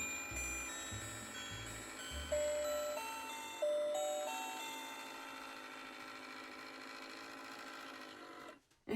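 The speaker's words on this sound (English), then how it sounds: "You can hear the motors getting pretty old" Worn old motors inside an animated Christmas decoration of Santa checking his list, a steady mechanical whirring and ticking hum with faint tinkling music above it, ending in a brief click.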